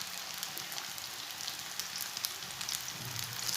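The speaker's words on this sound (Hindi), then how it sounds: "अब कबाब डाल लेंगे। इसे ना 2 मिनट तक एक साइड से फ्राई कर लेना।" Chicken seekh kebabs fry in hot oil in a home kitchen, a steady, soft crackling sizzle with scattered pops that carries on evenly and alone.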